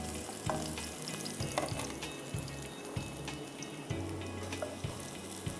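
Vegetables such as cabbage, capsicum, carrot and baby corn stir-fry in a pan over low heat for Schezwan chowmein, a constant sizzle broken by rhythmic scraping stirs, close and alone.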